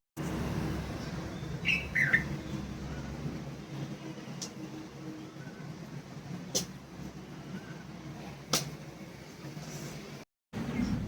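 Birds chirp outdoors with a few short, bright calls near the start and sparse faint tweets later, over a low background hum of distant traffic, with no clear talking.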